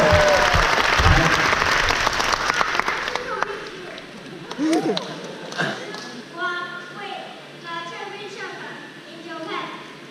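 An audience at a fan meeting with Maverick Viñales in Taiwan bursts into loud applause that fades after a few seconds, followed by scattered claps and thumps while people talk over the room.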